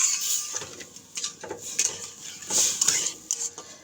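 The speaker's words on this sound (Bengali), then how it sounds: "জল দিয়ে ভালো করে সুজিটাকে নেড়ে নেব" A utensil stirs semolina with water in a metal pot, giving scraping clinks and knocks against the pot in irregular strokes, close and fairly crisp, with no talking.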